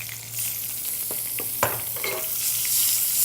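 Peach slices are laid into a hot pan to caramelize, giving a close, steady sizzle with a sharp crackle burst partway through and light stirring sounds.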